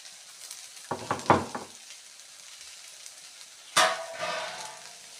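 Ginger garlic paste hitting hot oil in a pan for paneer masala, giving two loud bursts of sputtering sizzle separated by a quieter stretch, close by.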